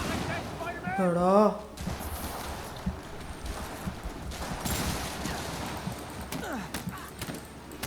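Gunfire in the PC game Spider-Man Remastered: several sharp shots pop out amid busy combat noise, while someone speaks over the action.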